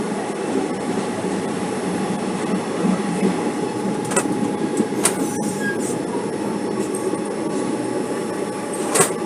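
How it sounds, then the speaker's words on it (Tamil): An SMVT Bengaluru Karaikal Express train rolls past nearby in India with a loud, steady roar. Brief high wheel squeals and rail clatter rise above it, and no one speaks. "இந்த ஒரு train SMPT Bengaluru Karaikal express"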